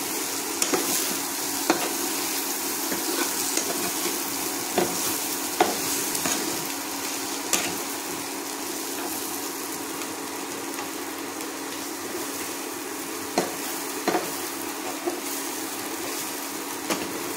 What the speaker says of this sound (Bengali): একটু কাসুরি মেথি ছড়িয়ে দেব, ছড়িয়ে নাড়াচাড়া করে নেব।